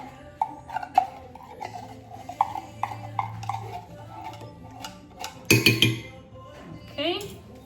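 A spoon scrapes and clinks against a container while scooping out coquito ingredients, giving a run of light taps and a louder scraping burst near the end, heard under intermittent talking.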